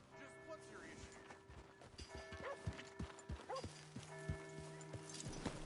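A horse in Red Dead Redemption 2 clops along with hooves and tack jingling, while someone speaks over it and a dog barks faintly.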